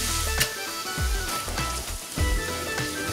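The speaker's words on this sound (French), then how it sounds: "Je vais rajouter juste du beurre clarifié et on va tout de suite cuire les oignons dedans" Onions frying in clarified butter in a pan, giving a steady close sizzle with a few soft stirring thumps and clicks, and no talking.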